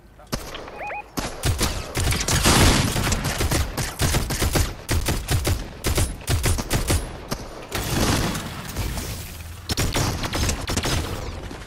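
Video game gunfire: loud, rapid bursts of automatic shooting crowd together over about eleven seconds, broken by short pauses.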